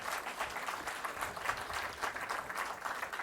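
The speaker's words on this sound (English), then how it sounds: "give her a big round of applause" Audience applause at a Carnatic music concert honoring M.S. Subbulakshmi, greeting a young violinist as she is introduced; moderate, even clapping from a seated crowd heard alone, slightly distant in the hall.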